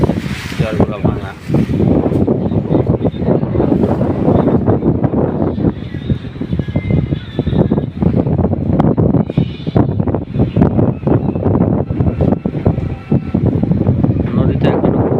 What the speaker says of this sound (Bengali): অনেক বাতাস, প্রচুর বাতাস নদীতে, ঠান্ডা বাতাস